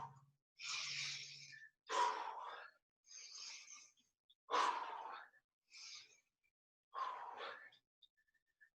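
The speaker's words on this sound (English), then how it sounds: "Let's keep that breathing in through the nose and out through the mouth." Exercise breathing during a workout, drawn in through the nose and pushed out through the mouth: about six separate breathy inhales and exhales, close and fairly clear, with short silent gaps between them and no talking.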